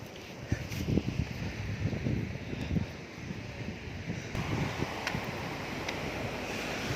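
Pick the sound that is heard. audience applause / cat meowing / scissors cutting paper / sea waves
sea waves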